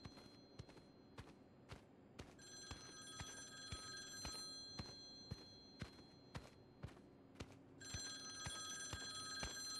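Telephone bell ringing in a Fortnite Home Alone horror map game, repeated rings in steady bursts with short pauses, moderately loud over a quiet background with faint footsteps, no talking.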